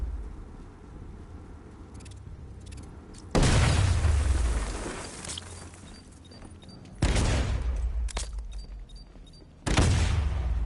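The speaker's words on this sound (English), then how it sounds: "Close and apply the explosive directly to destroy that wall." In a Batman video game, explosive charges blast through a wall in three loud, sudden booms spaced a few seconds apart, each followed by a crumbling, debris-filled roar that fades before the next.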